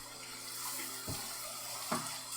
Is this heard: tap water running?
yes